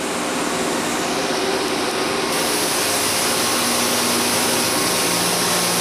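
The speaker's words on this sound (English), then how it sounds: "We have another K-line grinder here that's not set up, and several more Wit-O-Matic grinders. This one's in operation." A Wit-O-Matic 500 grinder runs in a machine shop with a steady, loud, unbroken broadband whir and hiss that holds at an even level throughout.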